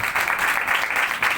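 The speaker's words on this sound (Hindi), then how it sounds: "जोरदार ताली इस बात के लिए।" Enthusiastic applause from a church congregation, a dense, steady wash of many hands clapping together at close range, continuing without pause.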